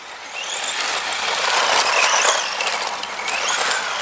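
A Tamiya Avante radio-controlled car drives off-road with a continuous, hissing electric whir that swells and fades slightly as it moves at moderate distance.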